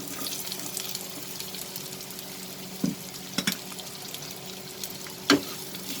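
Onions frying with garlic and green chili in oil over a medium flame, an even background sizzle broken by a few sharp clicks and scrapes of stirring, close by with no talking.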